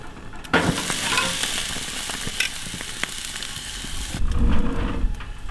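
A 1.8 kg tomahawk steak sizzles loudly on a Broil King GEM gas grill without cast-iron grates as it is flipped, the hiss flaring up near the start and again near the end.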